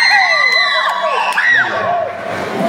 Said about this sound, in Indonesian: Barusan saya dengar teriakan seimbang perempuan dan laki-laki.